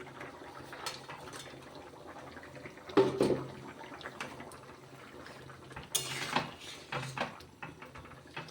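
Fritters dropped into a potato curry in a cooking pot, heard as a few soft splashes and clanks of a spoon against the pot, with quiet gaps between them and no talk.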